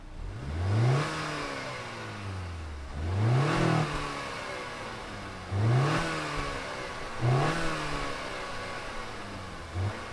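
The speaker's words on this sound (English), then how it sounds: "let's fire it up and see what kind of noise it makes" 2021 Acura TLX A-Spec engine, heard close with four rising revs that each climb and then fall back to idle, spaced about every two seconds, with no talking.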